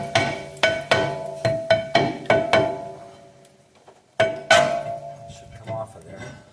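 A hammer taps repeatedly on an oiled rear brake hub of a 2012 Ford Explorer to free it. Sharp metallic knocks ring out in a quick series of about seven, then a pause, then a couple more.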